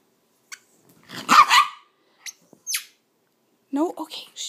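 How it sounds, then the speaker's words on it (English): A neighbor's dog barks a handful of sharp, separate barks at moderate distance in an otherwise quiet yard, with a voice speaking briefly between them. "You got the neighbor all excited now. Do you hear him barking at you?"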